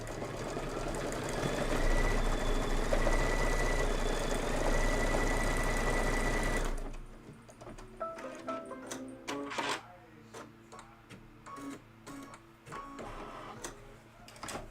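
An embroidery machine stitches an outline stitch with a loud, steady mechanical whir for about seven seconds, then stops. Scattered clicks and light rustling follow close by.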